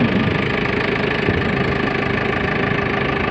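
A JCB loader's diesel engine runs at a steady idle, a loud, dense, continuous rumble with a faint knocking texture, heard close and alone.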